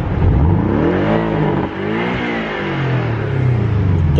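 A new Porsche Cayman engine revs hard at night, loud and close, rising and falling through repeated sweeping climbs with a brief dip in the middle.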